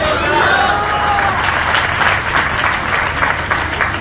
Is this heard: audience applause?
yes